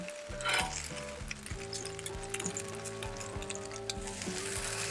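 Grilled taco wraps sizzle and fry steadily on a hot cooking surface after being flipped, with a constant crackling hiss and a few light clinks of a utensil, close and with no talk.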